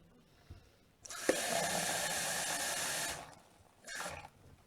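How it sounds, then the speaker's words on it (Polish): Tap water runs steadily for about two seconds to top up beet juice for quick borscht, a broad rushing hiss that stops cleanly, followed by a brief second burst near the end. "ja to dopełnię wodą z kranu do 600."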